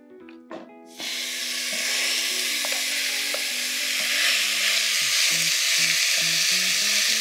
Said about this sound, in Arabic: نقلب اللحم مع السمن والزيت